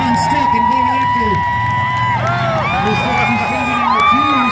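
Crowd cheering and whooping at a demolition derby at the Alaska State Fair, a steady loud roar in the grandstand with an announcer talking over it throughout.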